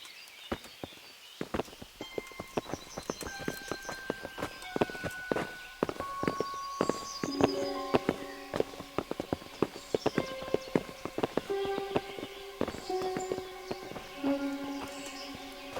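Horse hooves clip-clop steadily in Kingdom Come: Deliverance, close and rhythmic, mixed with footsteps and a layered orchestral music bed of sustained tones, with no speech.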